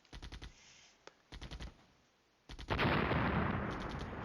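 Short rhythmic bursts of gunfire in Flashpoint Campaigns: Red Storm, each a quick run of three or four shots separated by pauses, followed by a louder, sustained rumbling barrage.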